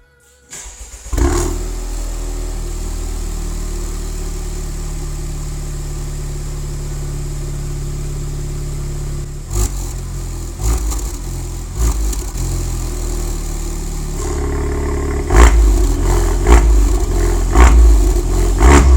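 A Honda Civic Type R FK8 fitted with an Armytrix valved exhaust cranks and fires up loudly, settles into a steady rumbling idle, then gets several sharp revs blipped near the end.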